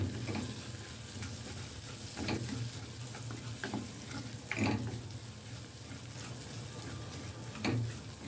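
Chicken sinigang stirred in a pot over the heat, giving a steady low bubbling and simmering hiss with several soft clinks and scrapes of the spoon at irregular intervals, no voices.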